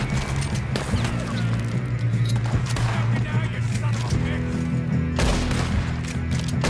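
Rapid bursts of gunfire in Red Dead Redemption 2 crack repeatedly over a steady game soundtrack during a train robbery shootout, with a heavier volley near the end.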